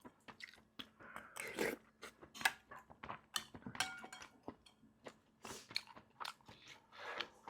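Close, wet chewing of springy octopus legs from a seafood soft tofu stew, with irregular crunchy bites and soft mouth sounds repeating steadily and no talk.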